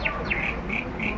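Birds chirp as a pair of mynas feed koel chicks in Majuli, giving about four short, high, bright calls in quick succession, close and clear with no talking.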